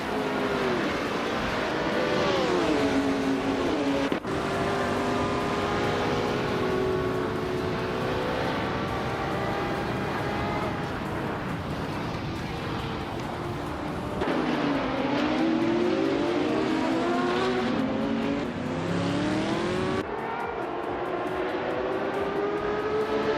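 Racing game engines, including a Porsche 917K, sustained loud droning roar with rising and falling revs as cars accelerate and shift, continuous throughout without speech.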